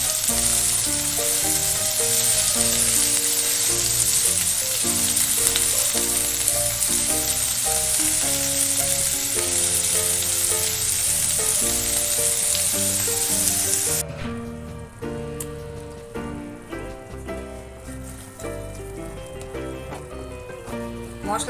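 Spice paste fries loudly in hot oil alongside jackfruit boiled with salt and turmeric for an echor malaikari, a dense close sizzle that suddenly drops to a softer hiss halfway, with music playing underneath.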